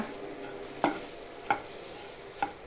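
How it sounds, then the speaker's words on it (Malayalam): Quiet stirring of green peas curry in a pan, with three distinct scraping clicks spaced apart over a faint background sizzle. "ഇതിൻ്റെ പച്ചമണം മാറുന്നതുവരെ വരെ കിണ്ടി കൊടുക്കുക"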